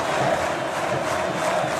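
Huge Vasco da Gama football crowd roars and cheers steadily in a stadium as player Felipe leaves the pitch during the 2011 Copa do Brasil final against Coritiba, a dense continuous wash of voices.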